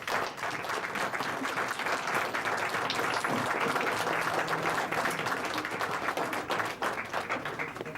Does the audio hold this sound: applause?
yes